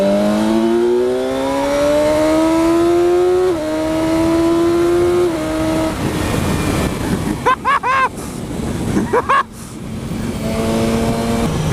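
BMW S1000XR motorcycle carrying a pillion passenger accelerates hard, engine pitch climbing through several gear shifts, loud and close under wind rush, with a few brief chirps in the middle.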